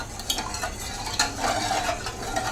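Milk and sugar for pineapple payasam are stirred in a pan with a ladle, a close, steady scraping swirl with a few soft clinks of metal on metal.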